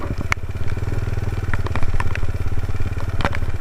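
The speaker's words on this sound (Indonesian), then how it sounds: "Dan ini motor saya udah agak seret-seret gitu" A Suzuki Satria FU motorcycle rides off-road in heavy rain, its engine chugging steadily and loudly up close with light clattering over the continuous drone.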